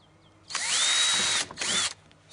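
A power drill whines at high speed boring ventilation holes into a plastic wheelie bin, two close, loud bursts, the first about a second long and the second shorter.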